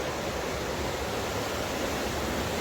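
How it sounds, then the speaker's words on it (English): A swollen river rushes through Glencoe after a night of heavy rain during a winter storm, a steady, loud, close roar of churning water with no breaks. "So water's absolutely raging."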